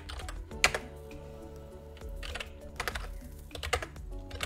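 Terminal commands typed on a computer keyboard: quick bursts of clicking keystrokes in irregular clusters with short pauses, close and clear, no talk.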